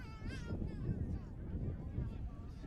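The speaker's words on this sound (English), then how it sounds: "Very windy day at St. Pius. You can probably hear that on our broadcast." Strong wind buffeting a broadcast microphone at a St. Pius soccer match, a low rumbling roar under a commentator's ongoing talk.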